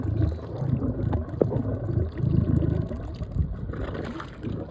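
Water bubbles and gurgles steadily beside a near-silent boat whose engine cannot be heard, a close, continuous liquid churn with small splashy peaks and no talking.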